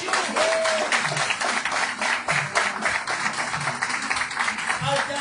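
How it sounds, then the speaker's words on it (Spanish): Loud, rhythmic clapping from a church congregation applauding the Lord, dense and continuous, with voices and talk mixed in beneath the claps. "Denle un aplauso al Señor."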